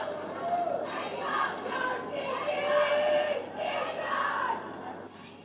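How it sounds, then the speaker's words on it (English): A sports match crowd roaring and chanting, a dense, sustained wash of many voices rising and falling in waves at a distance. "Crowd getting involved now too as the clock ticks down on this second half"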